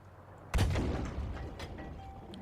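Tank cannon firing in Battlefield 5, a single deep, loud boom followed by a long rumbling decay and faint ambient mechanical hum, with no talk.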